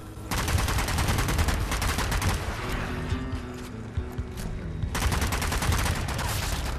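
Sustained gunfire from the zombie shooter Zombie Army 4: Dead War, dense, loud bursts of shots rattling almost continuously, with a brief lull before the firing picks up again.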